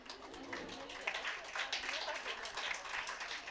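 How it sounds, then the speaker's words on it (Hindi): Audience clapping at an International Women's Day celebration, a steady moderate patter of many hands from a seated crowd, somewhat distant, with a faint bird-like coo or murmur mixed in. "आपसे गुजारिश है कि उस ज़ोर से ताली बजाए कि वो जूम"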